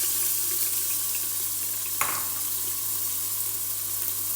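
Chicken and meat fry in hot oil in a cooking pot, giving a loud, steady, hissing sizzle throughout. A single brief clink stands out midway, with no talking.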